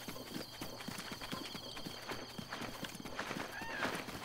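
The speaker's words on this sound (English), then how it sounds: "Horses." Horse hooves clop steadily and a horse neighs once in The Legend of Zelda: Breath of the Wild, a moderately loud, continuous patter of game hoofbeats over ambient background.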